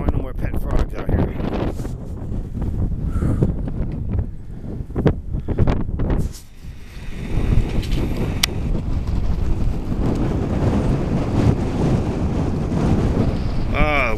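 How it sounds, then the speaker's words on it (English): Strong wind buffeting a microphone outdoors on a stormy day, heavy roaring gusts and rumbling thumps throughout with a short lull midway, while a person talks now and then. "the wind out here is really bad"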